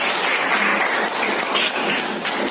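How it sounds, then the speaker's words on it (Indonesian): Students in a classroom break into applause, a continuous, fairly loud patter of many hands clapping at once, steady from start to finish. "Tepuk tangan buat dia."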